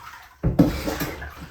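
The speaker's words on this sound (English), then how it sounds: "The agitator is sucking the soapy water through the fabric." Laundry hand-washed in soapy water with a handheld agitator, a short burst of sloshing and squelching water as fabric is plunged and pushed, starting abruptly after a quiet moment, close and fairly loud.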